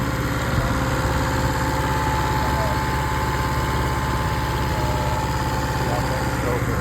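A rebuilt Kohler 6.5 kW marine generator engine running at a steady idle, a loud, even drone with constant vibration and no change in pitch, close by.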